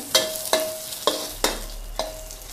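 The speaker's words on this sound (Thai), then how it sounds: "พริกการจะใส่น้ำมันเนาะเล็กน้อย ทอดในน้ำมันมันจะ เพิ่มกลิ่นหอม" Chilies frying in a little oil: a continuous bright sizzle with five sharp, evenly spaced clicks of a utensil against the pan, close and clear.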